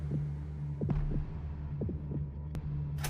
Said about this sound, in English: The heartbeats.